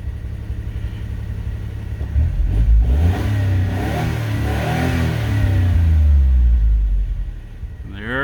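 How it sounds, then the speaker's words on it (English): A 1991 Geo Metro engine runs just after startup, revving up loudly from a low idle, holding high, then settling back down near the end. "Idling at about 1500 right now, but it should drop once the car settles after its initial startup."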